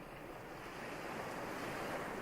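Sea waves wash steadily over a sandy beach in a continuous broadband rush of surf, close and even, with some wind noise and no voices.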